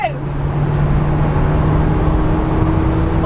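Peugeot 207 CC engine pulling hard at full throttle in third gear, a steady loud drone with rising tone, heard from inside the car over road rumble.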